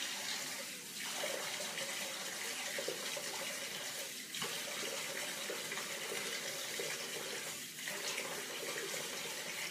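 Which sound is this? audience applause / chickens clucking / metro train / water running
water running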